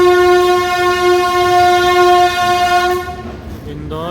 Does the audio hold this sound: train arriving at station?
yes